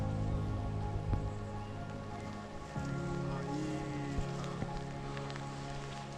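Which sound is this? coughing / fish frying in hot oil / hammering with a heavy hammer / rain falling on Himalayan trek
rain falling on Himalayan trek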